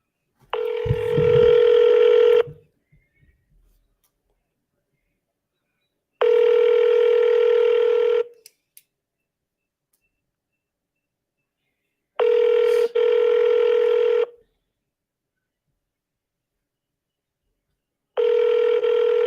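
An outgoing call goes unanswered as a telephone ringback tone repeats in four evenly spaced, clear bursts separated by long silent gaps.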